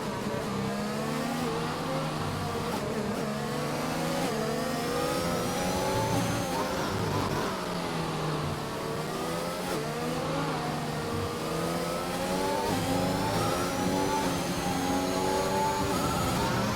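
Ferrari and Mercedes Formula-style race cars scream down a straight in a racing video game set at the Russia circuit, engines droning loud and steady with rising and falling pitch as they shift gears, no talking.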